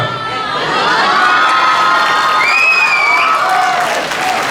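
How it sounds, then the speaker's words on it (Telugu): A large crowd at a Telugu community Ugadi celebration cheers, shouts and whoops loudly and continuously, with children's voices mixed into the sustained roar. "చప్పట్లు."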